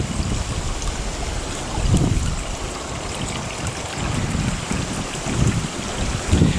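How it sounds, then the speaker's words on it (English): Water flows and trickles in a newly dug woodland stream beside a pond, a steady rushing wash with soft gurgling swells and some wind rumble on the microphone. "And you can see where the water's flowing."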